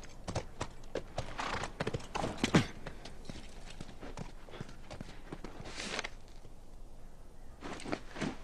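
Hooves clip-clop steadily as a horse walks in the video game The Last of Us, a rhythmic series of near thuds that pause briefly and resume.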